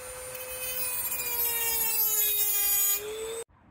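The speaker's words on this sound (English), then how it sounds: "Alright, I grinded it down as much as I can get. My Dremel won't fit in any further." Dremel rotary tool grinds down a cut on a BMW Z3 radiator upgrade, a loud steady high whine running continuously for several seconds before stopping abruptly.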